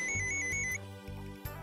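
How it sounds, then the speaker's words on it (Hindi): A phone ringtone chirps in a repeating pattern of short electronic tones during the first part, set over a background music bed in a Hindi crime drama scene. "अरे एक मिनट, फोन फोन।"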